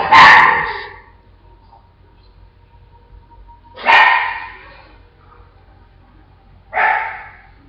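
Dogs bark in three separate bursts, one at the start, one near the middle and one toward the end, each fairly loud and close, with quiet gaps and a faint low hum between them.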